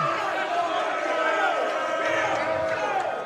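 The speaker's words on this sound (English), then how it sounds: "A lot of boos coming from the crowd" Spectators at a Calaveras vs Sonora high school boys' basketball game boo, a sustained wash of many voices filling the gym, loud and steady throughout.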